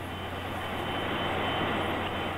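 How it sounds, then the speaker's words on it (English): A Boeing 777's auxiliary power unit, a small jet engine, runs steadily nearby with a loud, continuous broadband roar and a low, steady hum. "This is the auxiliary power unit called the APU. It's a little jet engine."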